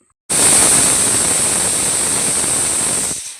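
A loud, steady hiss of steam blasts out suddenly from a pressure cooker whistle, holds for about three seconds, then cuts off.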